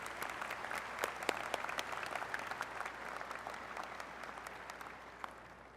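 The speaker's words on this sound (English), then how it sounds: "Please join in one more round of applause of appreciation for these two musicians." Sustained round of applause from a university commencement audience at West Virginia University, dense steady clapping from a large crowd filling the hall for several seconds without speech.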